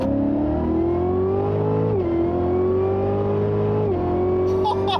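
A car with a supercharged LT4 6.2-liter V8 accelerates hard, its engine note rising steadily and dropping briefly at two gear changes, loud and close throughout.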